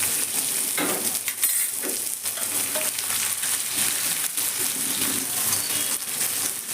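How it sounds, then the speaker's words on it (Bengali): Garlic, cumin seeds and onion frying in a pan over a lowered gas flame, a steady close hiss of sizzling oil with occasional stirring clinks and scrapes, no talk. "রসুন আর পেঁয়াজ খুব ভালো করে আমি ভেজে নেবো এখানে।"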